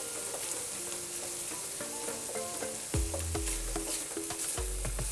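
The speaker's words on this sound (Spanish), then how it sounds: "vamos a agregarle cucharadita y media de pasta de tomate, que vamos primeramente a dorar un poquito" Tomato paste and ground meat browning in a pan for Dominican stuffed plantain canoas give a steady close sizzle, broken by scraping stir strokes that grow heavier and more frequent partway through.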